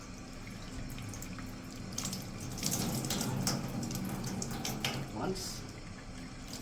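Tap water running steadily while the arms are washed during wudu, with splashing that swells and fades under a voice speaking.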